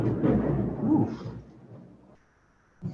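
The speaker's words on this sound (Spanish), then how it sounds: "¿Fue eso un trueno o qué?" A low, rumbling roll of thunder swells and fades over a couple of seconds during a rainy stretch, heard from indoors and fairly muffled, with little talk.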